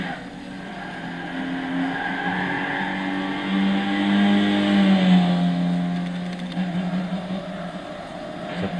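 The engine of a 1965 Nissan Silvia 1600 with a four-speed manual gearbox drones loudly as it accelerates down a straight on a track in the racing game Gran Turismo 6. The pitch climbs and swells midway, and tires squeal near the end.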